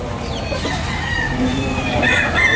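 A rooster crows over steady outdoor background noise at Tabunok, Talisay, Cebu, with other fowl clucking faintly nearby.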